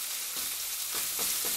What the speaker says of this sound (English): I'm going to sear that side. It's already seared, it's trying to stick.